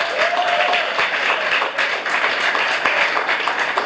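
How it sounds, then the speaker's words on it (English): A welcoming audience gives the incoming Class of 2019 a warm round of applause, dense crowd clapping at steady volume with some close, crisp individual claps, no talking over it. "Big round of applause for them."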